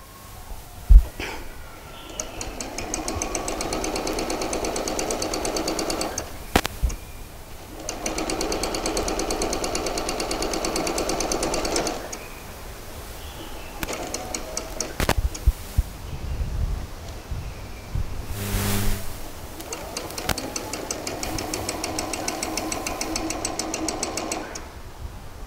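A sewing machine stitches a seam on a pair of shorts in several loud, whirring bursts of a few seconds each, separated by brief pauses and soft handling noises.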